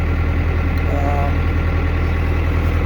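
A tractor engine idles with a drum mower attached, giving a steady, close, low rumbling throb throughout while a person talks over it.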